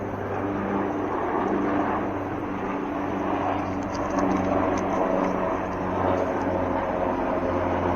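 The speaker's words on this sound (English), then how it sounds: "Oh, helicopter." A helicopter flies overhead, a steady engine drone humming throughout, low and continuous, with rotor chopping faintly layered over a broad rumble; no voices.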